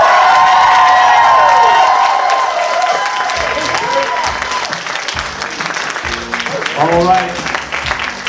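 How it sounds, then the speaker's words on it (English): An audience at an evening show for a younger crowd breaks into loud applause and cheering that gradually fades into scattered claps, with a voice speaking briefly over it. "So I am going to need that same 10 level applause"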